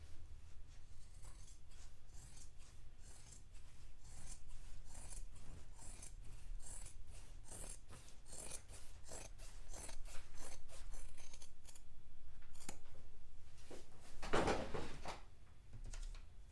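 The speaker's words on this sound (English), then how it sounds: "Cut through all 4 layers of fabric." Scissors chopping through four stacked layers of fabric for a robe, a rapid run of crisp snipping cuts followed by a louder, heavier chomp near the end, close and alone.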